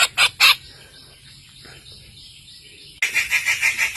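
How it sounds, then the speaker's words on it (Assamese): During a flood, a mother bird calls for her stranded chick: three sharp bursts of loud calls, a quieter pause, then a rapid run of repeated cries close by. "মাকে চিঞৰি আছে পোৱালিটোৰ কাৰণে"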